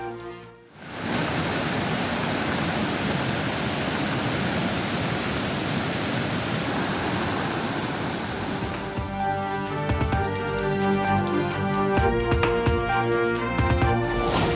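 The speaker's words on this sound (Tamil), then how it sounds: "அமனலிங்கேஸ்வரர் கோயிலை சூழ்ந்தபடி ஆர்ப்பரித்து செல்லும் வெள்ளம்." Floodwater from heavy rain roars around the Amanalingeswarar temple near Panchalinga waterfall: after a brief quiet start, a loud, unbroken rushing wash fills the sound, and a steady tonal layer joins it in the last few seconds.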